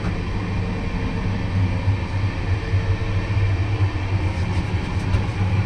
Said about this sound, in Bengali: আমাদের ট্রেন এখন বর্ধমানে এসে থেমেছে, আবার ছেড়ে দেবে এক্ষুনি।